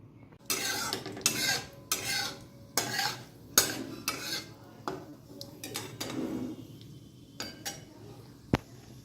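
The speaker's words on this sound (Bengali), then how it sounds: "দেখো সরষেটা ক্র্যাকল হচ্ছে, কড়াইয়ের বাইরে ছিটকে ছিটকে পড়ছে একটা দুটো।" Mustard seeds crackle and spatter in hot oil in a wok, heard as a string of sharp, bright bursts with metallic pan clatter in between and a low background hum.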